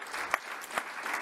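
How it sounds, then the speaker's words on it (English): A conference audience applauds briefly and faintly, a soft patter of clapping with a few distinct claps standing out. "Big round of applause, please."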